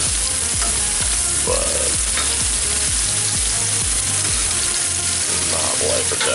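Turkey meatballs frying in a pan for meal prep, a steady loud sizzle with crackling and occasional stirring scrapes, with a brief word spoken over it.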